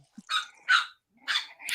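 Several puppies bark in quick succession, high-pitched yips and barks in four short bursts, close and loud with no talking.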